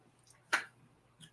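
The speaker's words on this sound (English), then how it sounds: "Did you clap one time?" One sharp, close hand clap rings out alone in a quiet room, a single crisp snap with faint murmuring voices before and after.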